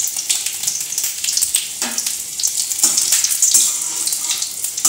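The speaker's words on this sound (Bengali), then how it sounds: "এটা একটু ভেজে নিই" Black cumin seeds and green chillies fry in a pan over lowered gas, giving a steady bright sizzle with crackling pops, close and continuous, with no voices.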